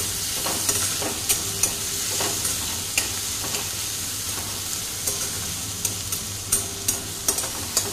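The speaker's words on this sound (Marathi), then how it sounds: "मस्त असं मिक्स करत जायचं आहे, चांगलं सॉफ्ट होऊन द्यायचं।" Chopped tomato and an egg rice mixture fry in a pan under a constant sizzling hiss, with a spatula scraping and tapping at irregular intervals as the mixture is stirred.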